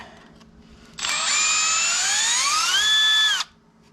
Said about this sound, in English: I'm gonna use power tools.